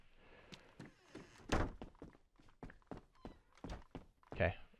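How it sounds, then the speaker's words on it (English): A door in the video game DayZ swings shut with a solid thunk among several other dull knocks and soft footstep-like thuds, with a murmur of speech running underneath. "I'm going to close this door so I can hear somebody coming"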